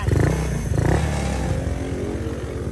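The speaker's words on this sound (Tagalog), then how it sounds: "Mga boss, umaandar na yung Click 125 na 4B." A Honda Click 125 scooter fitted with a 4-valve head and a 34mm throttle body idles close by, a steady, even engine patter with a short blip of throttle near the start.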